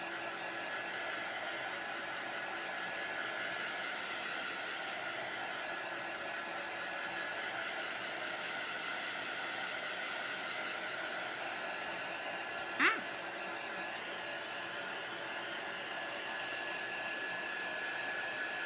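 A heat tool blows steadily at close range, drying chalk paste on a T-shirt, with one brief click partway through and no talk.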